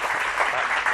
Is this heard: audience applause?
yes